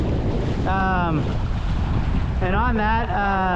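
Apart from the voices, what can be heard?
southeast trade wind while sailing a Hobie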